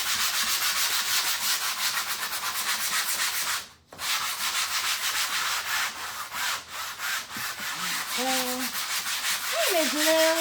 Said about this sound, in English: grab yourself a small little hand sander